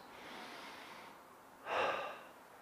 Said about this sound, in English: what you'll typically see is a lot of chest or neck breathing